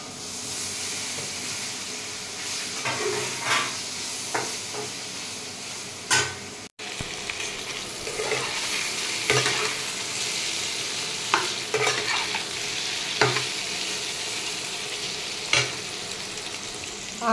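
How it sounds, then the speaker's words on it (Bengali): Paneer pieces fry in butter in a pan, giving a steady close sizzle with scattered crackles and occasional stirring scrapes, briefly cut off once partway through. "পনিরগুলো কেটে নিয়েছি, একটু বাটার দিয়ে এই যে ভাজবো পনির।"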